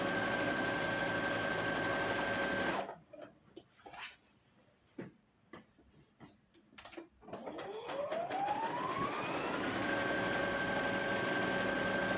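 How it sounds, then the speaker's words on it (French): A sewing machine topstitches fabric for a pillowcase, whirring steadily and loudly up close, then stopping briefly for a few ticks and clicks before the motor ramps back up into a continuous hum. "Je vais surpiquer ici à 2 cm et demi."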